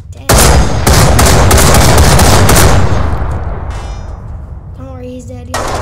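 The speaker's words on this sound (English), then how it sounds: "Two people versus a sniper bullet." A sniper rifle fires in a video game: a loud, sharp blast with a short burst of follow-up cracks, then a long rumbling decay, with a brief voice-like sound near the end.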